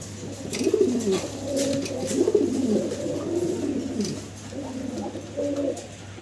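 Large king pigeons coo in soft, rolling, repeated phrases close by, steady throughout over a faint constant hum, with no one speaking.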